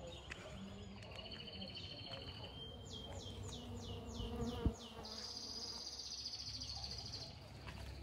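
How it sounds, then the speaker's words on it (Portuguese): Jataí stingless bees buzz steadily around a hive box during a colony transfer, a continuous close insect drone with brief bird chirps over it and one sharp knock partway through. "Olha o tanto de abelha que tem ali esperando,"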